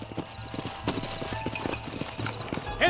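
Horse hooves clip-clopping at a walk in the Red Dead Redemption game, a steady rhythmic patter of hoofbeats close by over a low ambient bed, with a brief whinny-like sound near the end.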